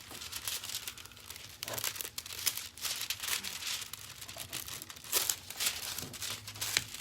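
Foil crinkles and rustles continuously while being pressed onto a shiny Halloween craft, with close, busy crackling bursts and small tearing sounds throughout and no talking.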